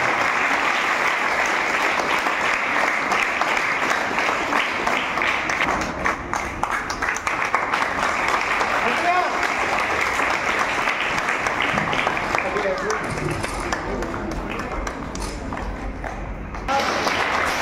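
Sustained applause from a crowd at a Z.P. high school certificate presentation, dense steady clapping that carries on for the full stretch with little change in level.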